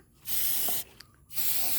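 Two long, loud bursts of aerosol spray from a sticky fruit fly lure can, each lasting about half a second and separated by a short pause, with no talking.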